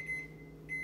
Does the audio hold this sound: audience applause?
no